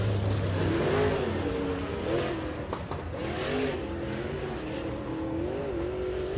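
Super Late Model race cars roar around Rockcastle Speedway three wide in a race, engines rising and falling together in a loud, continuous racing drone with a brief sharp burst near the middle.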